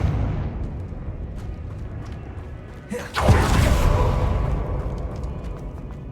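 A fire-blast spell erupts in the Hogwarts Legacy video game: a sudden broadband boom that swells and holds as a rumbling, roaring burst over a steady game backdrop, with a shouted incantation just before.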